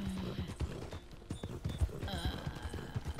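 Horse hooves clip-clop in the Red Dead Redemption 2 video game, a steady run of close, dull thuds with low rumbling game sound beneath and faint background voices.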